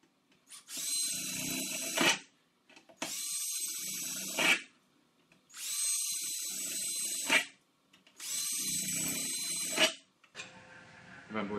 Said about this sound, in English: And drill those sections.